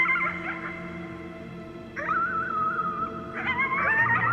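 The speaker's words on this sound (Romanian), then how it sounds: "You howled at the moon," A drawn-out, wavering howl at the moon in a video game rises twice over a low background hum, sustained and fairly close, with a softer whining tone at the start.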